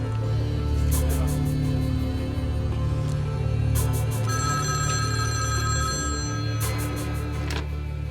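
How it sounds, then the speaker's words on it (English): An old-style telephone bell rings in loud repeated bursts, three rings spaced a few seconds apart over a steady low background hum and tone, with no voices. "And Naujoc's phone rings."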